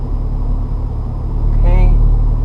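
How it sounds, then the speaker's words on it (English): Manual car shifted into fifth gear and accelerating, a low steady engine rumble that swells slightly toward the end, heard close from inside the cabin with a brief voice over it. "Clutch in, fifth gear, smooth clutch out, give gas."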